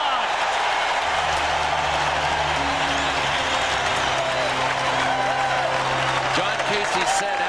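Arena crowd at a 1991 NHL Stanley Cup playoff game between Minnesota and St. Louis cheers and yells loudly throughout, a dense roar with horn-like tones beneath, while a commentator's voice carries over it.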